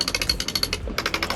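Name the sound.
sailboat winch being spun in a spin test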